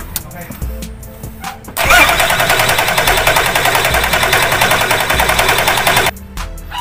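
A Nissan Patrol GQ with a TD42 diesel engine that has trouble starting cranks and catches, settling into a loud, steady, rattling run for several seconds before cutting off, with voices talking around it.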